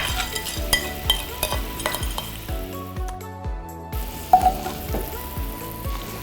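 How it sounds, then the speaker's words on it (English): Dried anchovies stir-frying in a pan for a Korean side dish, with a steady sizzle under repeated rhythmic scrapes and clinks of a spatula against the pan, close and moderately loud. "I stir fry anchovies in."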